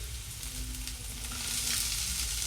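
Chopped onion fries in a pan in a continuous, close hiss of sizzling oil that builds slightly louder toward the end, with no voices.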